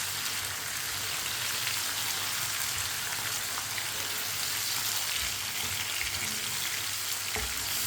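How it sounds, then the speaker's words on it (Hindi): Finely chopped tomatoes and green chillies sizzle and fry steadily in a hot pan for chana dal, a constant crackling hiss that stays even throughout with no voices. "अब टमाटर को 2 मिनट के लिए पका लेंगे।"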